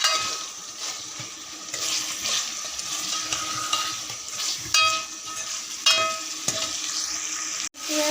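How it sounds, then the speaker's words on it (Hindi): Chicken sautés in a pan for a curry, a moderate sizzle with scraping and clinking of a spoon stirring against the metal, a few sharp knocks, no talking. "चिकन उसकी अच्छी तरह से भुनाई हो रही है"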